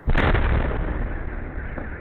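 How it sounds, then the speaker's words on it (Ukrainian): A single heavy boom from a drone strike on a Russian military airfield bursts out suddenly, then rolls into a long, low rumbling echo that fades slowly, heard from some distance outdoors. "Вообще самому страшно с окна очень Большой взрыв слышен."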